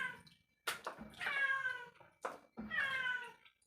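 A neighbor's cat meows loudly twice, each call long and drawn out with a rising and falling pitch, separated by short pauses and a brief bump of noise.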